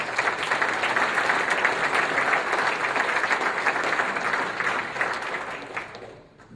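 Crowd at a Second Amendment rally in Idaho breaks into sustained, dense applause that holds steady and loud for several seconds before fading out at the end.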